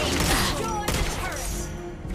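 A single gunshot in a video game cracks sharply near the start, followed by booming, crashing game effects and a dense layer of mechanical noise and ringing that continues for about two seconds.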